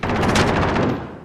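Rapid automatic gunfire from a Call of Duty Warzone match, a dense loud burst of shots rattling steadily for about a second before tailing off, with no talk over it.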